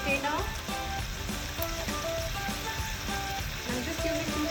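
Nihari masala powder fries on a low flame, giving a continuous crackling sizzle with occasional stirring scrapes and brief metallic clinks over a busy, close kitchen background.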